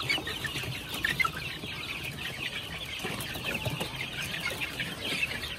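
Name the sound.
growing young chickens clucking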